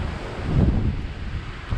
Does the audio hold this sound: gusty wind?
yes